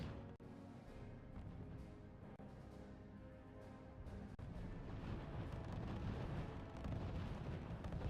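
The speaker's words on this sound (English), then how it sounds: "Warhawk strafing." A Warhawk aircraft strafing run in the strategy game RUSE: a low, rumbling burst of gunfire and explosions with sharp clicks, growing denser and louder midway through.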